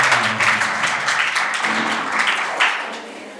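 An audience claps at a Class 10 board exam results ceremony, a continuous, fairly loud patter of many hands with small swells, with no voices standing out.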